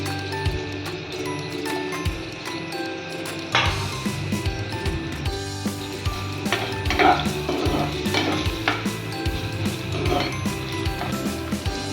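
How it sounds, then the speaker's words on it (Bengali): Onion and tomato fry in a pan for a mixed vegetable and potato curry, with a steady close sizzle and repeated metallic scrapes and clinks from stirring throughout. "পেঁয়াজ আর টমেটোটাকে একটুখানি ভেজে নেব।"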